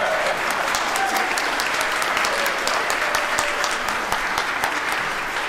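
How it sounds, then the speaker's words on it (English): A congregation at a Sunday religious service applauds steadily and loudly for a community member, a dense, even wash of many hands clapping that holds for several seconds without a break. "I think Ghlee deserves a cheer"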